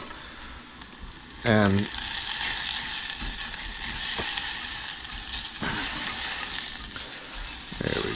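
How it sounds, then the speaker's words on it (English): Onions being stirred in a pan over high heat, a steady loud sizzle of frying with scraping stirs and utensil clinks throughout. "And now that we have them in there, we are going to just stir them."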